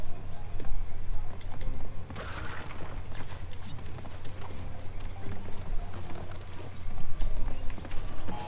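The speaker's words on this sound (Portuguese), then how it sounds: "Cavalo." Horse hooves clip-clop through the scenery of the Crash Bandicoot 4 video game, a busy, uneven patter of hoofbeats layered with chirping birds and a steady low game ambience.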